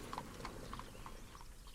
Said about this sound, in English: She smiled and watched Gavin ride down the road towards the castle.